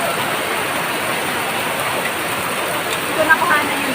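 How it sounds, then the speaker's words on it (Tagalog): Heavy rain pours down steadily during flooding, a dense loud hiss filling the scene without a break, with a faint voice briefly heard near the end. "grabe ang lakas ng ulan"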